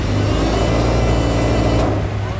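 A fast production car, billed as the world's fastest for 2018, revs hard at the start line of the Brighton Speed Trials: a loud, steady, close engine roar holding high revs with a slight drop near the end.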